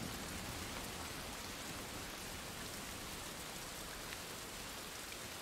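Rain falls steadily in the Desperados 3 video game, a quiet, even hiss of dense patter with no pauses or voices, continuing unchanged throughout.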